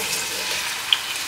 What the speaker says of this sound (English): We're going to brown the red onion